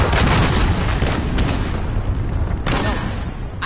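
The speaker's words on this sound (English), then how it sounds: "Allied cruise missile launched." A cruise missile strike in Call of Duty: Modern Warfare rumbles as a loud, sustained explosion, dense and booming, with a second sharp blast near the end.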